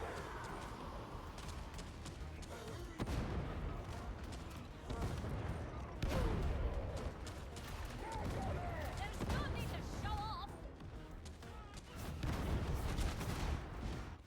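Repeated explosions from an Ogryn multi-bomb during a Mortis Trials wave in Warhammer 40K Darktide, a dense run of loud booms and gunfire-like bursts that keeps flaring and easing across the whole stretch.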